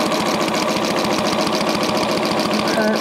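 A sewing machine doing free motion quilting on a feather design for a lined purse, a steady rapid chatter of stitches running close and continuous throughout.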